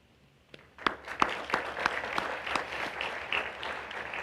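An audience at the Kavod Evening 2022 awards event of the Jewish Federation of Winnipeg claps for award recipients. The applause starts with a few sharp claps, then swells into dense, sustained clapping from a crowd in a hall.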